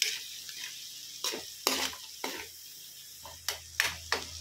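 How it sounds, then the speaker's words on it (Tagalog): Bagoong being stirred in a cooking pan, scattered scraping strokes and utensil clinks over a faint low sizzle, with quiet gaps between strokes. "Haluin na natin guys"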